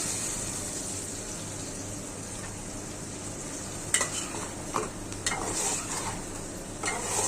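Boiled taro pieces tipped into a pan of fried spice masala, soft sizzling under a steady hiss, then a few sharp clatters of stirring and scraping, no talking.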